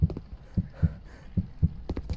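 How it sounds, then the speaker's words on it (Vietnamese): Heartbeat in the horror video game A Devilish Nightmare, clear low double thumps repeating at a steady, fairly quick pace and standing alone. "Tim đập càng ngày càng nhanh."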